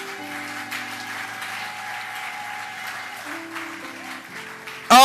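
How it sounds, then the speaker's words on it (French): A church congregation at a Sunday service claps in steady applause over sustained organ-like tones, ending in a sudden loud burst near the end. "C'est pourquoi nous acclamons pour le Seigneur."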